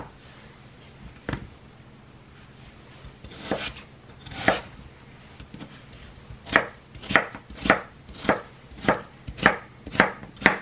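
Tomato, onion and garlic chopped on a board for a potato and panela cheese broth, heard as sparse knife strikes that build into a steady run of about ten crisp, evenly spaced chops at close range.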